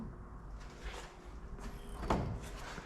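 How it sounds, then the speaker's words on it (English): Door of a 1937 Chevrolet sedan swinging on its hinges, a quiet creak and shuffle followed by a clear latching thud near the end, close up and fairly soft. "The door opens and closes really nice."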